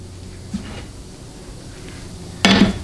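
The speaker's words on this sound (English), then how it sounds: "now I'm going to go ahead and remove the bolts to the rear support" Bolts are being removed from the rear support of a Chrysler A904 transmission during a teardown, with a soft metallic knock early on and then a sharp, louder clank of metal near the end.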